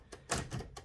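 A 1920-1922 Helios-Klimax typewriter clacks at close range, its mechanism giving several uneven sharp strikes and rattles in quick succession.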